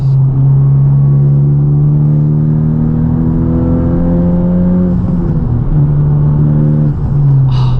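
A loud Honda Civic Type R engine climbs steadily in pitch, briefly dips at a gear shift into fourth, then roars upward again, close and powerful.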